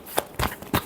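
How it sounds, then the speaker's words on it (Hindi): Tarot cards are shuffled in three quick, crisp riffling bursts, close and fairly soft, with no speech. "last shuffle"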